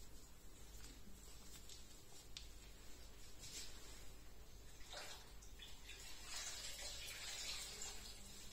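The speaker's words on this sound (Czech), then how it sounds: "A důkladně ho omijeme vodou." Tap water runs and splashes while a skin cleanser is rinsed off the face, neck and chest, a soft continuous patter with brief louder splashes near the end, quiet and close.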